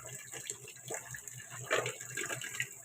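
Water runs and splashes close by while washing dishes, uneven and gurgling, with faint voices now and then underneath.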